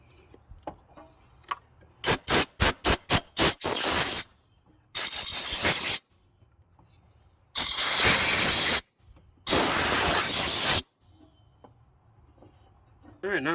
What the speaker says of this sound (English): We're also going to blow out the connectors here just to make sure that there's nothing on there